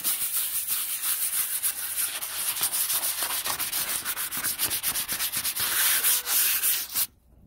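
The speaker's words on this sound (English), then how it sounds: "Be careful to keep the sandpaper moving." Sandpaper worked by hand over a patina surface before clear coating makes a steady, close, hissing scrape in quick back-and-forth strokes for about seven seconds, then stops abruptly.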